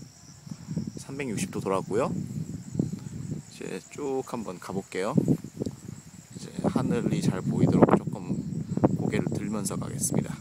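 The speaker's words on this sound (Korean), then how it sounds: "귀뚜라미 소리가 들리는 가운데" A steady high-pitched chirping of crickets at night on a kibbutz in Galilee, Israel, persists in the background under someone talking close to the microphone, with faint rustling.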